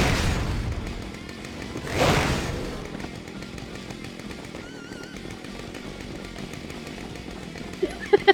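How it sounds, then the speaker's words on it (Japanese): Chainsaw attacks in the action game Devil's Third Online roar in bursts, with a loud surge near the start and continuous engine buzz and game noise throughout, ending in a few sharp hits. "ちょ、チェーンソー出すぎじゃない？"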